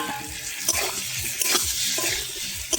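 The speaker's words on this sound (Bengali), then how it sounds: "ভালো করে কষিয়ে নেব।" Fried potatoes and eggs are sautéed in a spice paste in a pan. A steady sizzle runs under repeated scraping and stirring strokes, close and moderately loud, with no talking.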